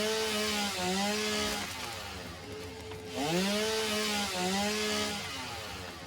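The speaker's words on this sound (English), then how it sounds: "And yes, you can chainsaw the leaves," A chainsaw in the video game Satisfactory revs and whines as it cuts through leaves, with a harmonic engine tone rising and falling in repeated surges, loud and close with no talking.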